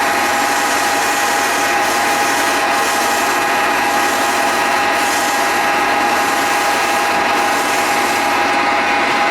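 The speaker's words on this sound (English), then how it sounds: "I'll use my gouge just to take this down" A wood gouge shaves a bagpipe part in a workshop, a continuous loud rasping scrape over a steady motor hum, close and unbroken with no speech.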